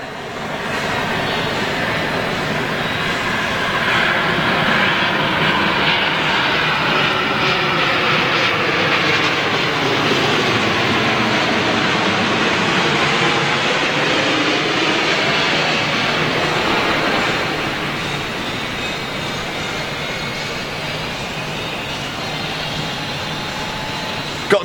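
Aeromexico jet airliner landing at LAX, a loud, sustained engine roar with a sweeping whine that swells as it passes close overhead, then eases into a steadier distant rumble.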